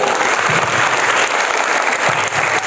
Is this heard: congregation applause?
yes